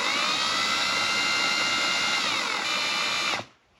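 An electric drill spins a broken ratio adapter piece driving a Humvee speedometer, producing a steady, loud high-pitched whine with a bright mechanical hum that holds constant for over three seconds before cutting off abruptly.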